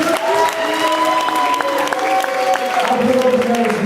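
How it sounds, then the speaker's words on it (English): Applause from an audience at a high school soccer banquet: sustained clapping from a room full of people, steady and loud, with voices talking over it. "give them a round of applause"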